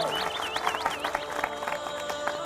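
Steady audience applause at a live religious gathering with the Kiai Kanjeng ensemble, dense overlapping claps with a few high whistles riding on top, sustained throughout.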